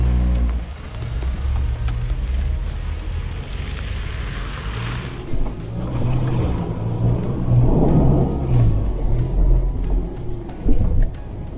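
An Isuzu MU-X 4x4 engine drones loudly and continuously in second gear while churning through mud off-road, a deep rumble that swells and dips with throttle.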